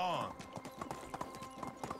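Horse hooves clip-clop at a steady trot, rhythmic and clear, with a brief voice-like call from the rider urging the horse on at the start; game sound effects from Medieval Dynasty.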